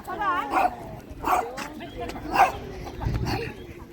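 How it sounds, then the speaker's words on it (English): Small Shih Tzu dogs yip and bark in three or four sharp bursts at moderate distance on a street walk in Tavira, Portugal, with a faint whine between barks and quiet ambient noise. "it's the small dogs that are making all the noise"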